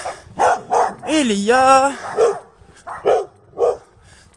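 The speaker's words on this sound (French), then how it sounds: "des chiens partout" Dogs bark repeatedly in a residential street cul-de-sac, with a series of sharp, fairly close barks and a drawn-out whining yelp, while someone speaks briefly.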